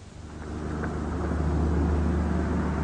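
A 1986 Skoda 105 S, a rear-engined Czechoslovak family car, drives past with a low, steady engine rumble that swells over the first half second and holds, heard alone.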